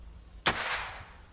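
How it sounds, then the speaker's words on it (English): An explosion blasts an outer pipe onto an inner pipe, one sharp loud crack followed by a brief rushing decay, with no speech. "So the outer pipe is being blown up onto the inner pipe."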